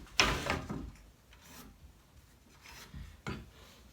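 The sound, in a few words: marking lumber with a square for stud layout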